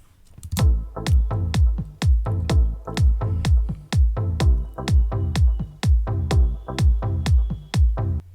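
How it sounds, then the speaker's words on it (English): Rhythmic synth chord stabs driven by a steady four-on-the-floor kick drum and a deep bass line, loud and continuous. "Let's hear it with a kick and bass."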